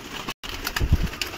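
Pigeons give low, soft coos up close, a short burst of throaty calls over faint background noise.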